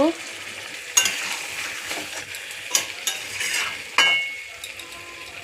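Chicken and potatoes hit a hot pan for chicken kosha, giving a close sizzle with sharp spoon-and-pan clatters about a second in and again near four seconds, then steady frying.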